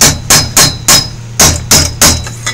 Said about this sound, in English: Been playing with hammers and metal